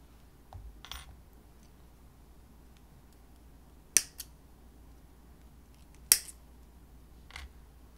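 Metal craft dies are snipped apart at a quiet indoor craft table, two sharp metallic clicks standing out among a few softer taps and rustles, faint and close with long quiet gaps.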